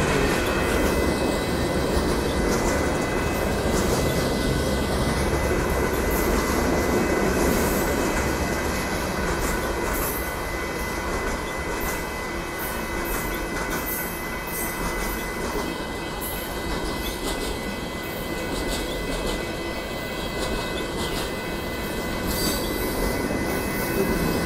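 A northbound Union Pacific boxcar freight train passes at Dittmar Road in Austin on a Sunday morning, with a loud, sustained close rumble of cars and wheel squeal throughout.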